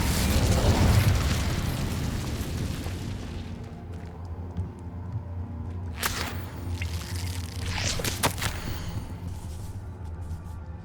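A fire spell from the video game Hogwarts Legacy erupts with a loud rumbling burst of flame at the start, then settles into a crackling fiery hiss with sharp magical flares and pops later on.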